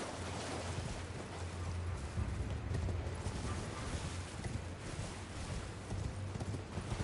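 Hoofbeats of a horse galloping in Elden Ring: Shadow of the Erdtree, a continuous dense rumbling patter under a broad wash of game ambience, steady and fairly loud throughout.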